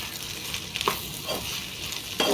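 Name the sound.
potatoes frying with spice powders, video cooking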